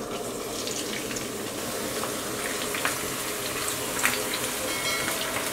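Chopped onions fry in oil in a pan for restaurant-style moong dal, giving a steady, dense hiss and sizzle with faint crackles throughout. The sound is close and even, with no voices.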